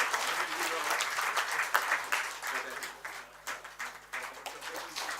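Conference audience at a law and technology event applauds steadily, a dense wash of many hands clapping at moderate loudness with slight swells throughout.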